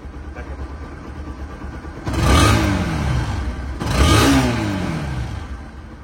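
A Bajaj Pulsar NS 160 motorcycle engine in showroom condition idles, then revs sharply twice, each burst rising in pitch and falling back to a steady idle.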